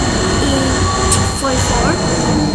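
A Minecraft MTR mod train, an early KCR-era train of Hong Kong's East Rail Line, rumbles steadily past at close range, with metallic wheel squeals rising and falling over the continuous roar.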